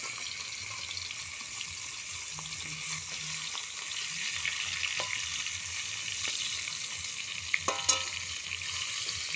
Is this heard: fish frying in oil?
yes